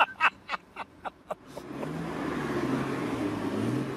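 A car engine revs up and settles into a sustained, close, throaty roar, after a short run of sharp, evenly spaced clicks or pops.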